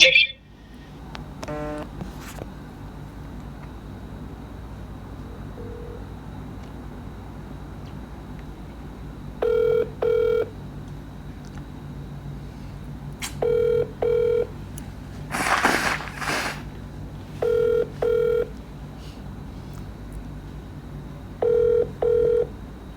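A telephone rings in repeated paired bursts at steady intervals, with soft speech and background noise between the rings.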